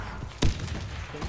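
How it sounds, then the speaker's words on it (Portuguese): A grenade goes off in the Warface shooter game: one sharp, deep thud with a brief burst, rising over low game ambience in a short competitive clan match round. "Lançando granada!"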